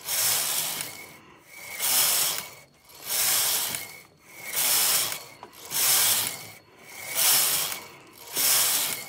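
A Brother knitting machine carriage is pushed back and forth across rows, giving steady rhythmic mechanical whooshing and ratcheting sweeps, about seven passes in a row with short pauses between, close and without talk.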